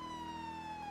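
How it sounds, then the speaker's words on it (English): Police car siren in GTA V, a brief, steady high wail held nearly level, close and loud over a faint engine hum. "The sirens louder than the Hemi"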